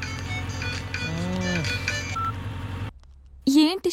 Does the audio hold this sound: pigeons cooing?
no